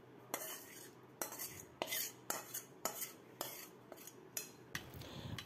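A spice mixture is stirred briskly in a bowl to cool it while making butter chicken, giving a run of sharp, regular metal-on-bowl clinks and scrapes, close and clear with no voices.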